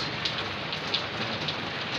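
Heavy rain pours steadily at a house extension site during roof work, a dense continuous hiss with occasional sharper drops, loud and with no one talking.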